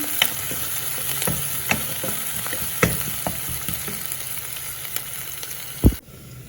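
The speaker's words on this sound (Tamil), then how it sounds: "இந்த வெட்டி வச்ச கருவேப்பிலை கொஞ்சம் இப்போ வந்து இதை வந்து வடிவாக கிளறி விடுவோம்" Chopped curry leaves fry and get stirred in a pan while cooking a millet puttu dish, a soft steady sizzle broken by scattered spatula taps and a sharper scrape near the end before it cuts off.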